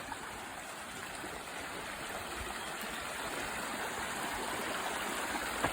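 The Ravarnette River at Currys Glen in strong flow, a steady broadband rush of water that stays even and continuous throughout, fairly close, with no voices or other sounds.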